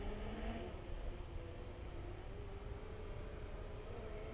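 Drone flying over a build site, a constant, even buzzing drone with faint wind noise, steady throughout with no talk.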